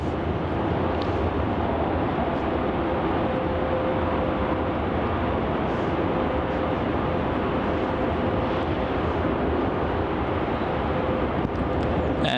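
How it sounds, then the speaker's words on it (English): Qantas Link Dash 8 Q300 turboprop airliner landing, arriving from Devonport, Tasmania, at Melbourne Airport; a steady, loud broadband roar holds throughout with a faint tonal whine, mixed with wind buffeting on the microphone. "Landing now, we have a Qantas Link flight QF 2050 heading in from Devonport, Tasmania"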